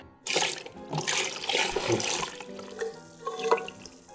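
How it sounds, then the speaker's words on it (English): Vodka and marinade are poured over a salted ostrich egg in a marinating container, a loud, close liquid pour that starts abruptly and splashes unevenly for about four seconds. "just pour the vodka in along with the marinade."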